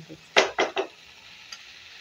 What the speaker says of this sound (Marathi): इथे बघा 1-2 मिनटं असं आपण परतत राहिला ना तर भाजी होणार